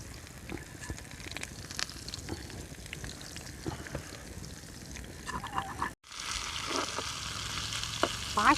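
Prawns frying outdoors in a chicken karahi give a constant crackling sizzle with occasional stirring, close and steady, with a brief cut partway through after which the frying returns louder; no voices.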